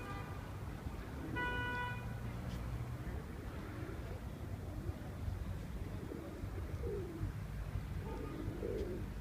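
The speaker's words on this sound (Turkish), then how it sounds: "güvercinleri de görelim istedim." Soft, low cooing of pigeons in Karabük, Turkey, repeats against steady outdoor background noise, with a brief high tone early on and faint traffic-like hum.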